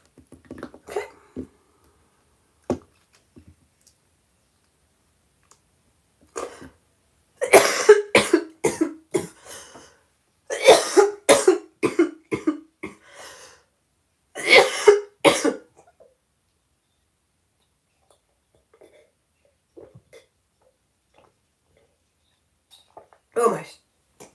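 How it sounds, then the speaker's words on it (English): A string of close, loud coughs in clustered bursts, separated by long quiet gaps, with a few soft sounds in between. "Pardon me for that cough."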